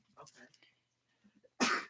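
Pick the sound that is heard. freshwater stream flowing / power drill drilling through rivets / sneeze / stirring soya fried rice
sneeze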